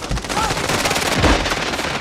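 Rapid automatic gunfire in a battle royale video game, a dense burst of loud shots rattling continuously for about two seconds with a heavier thump near the middle.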